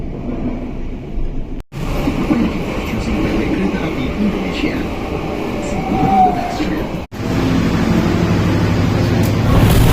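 Inside the Logawa passenger train bound for Gubeng station in Surabaya, a steady rumbling roll of wheels and carriage fills the cabin, with faint rattles and a couple of brief dropouts along the way.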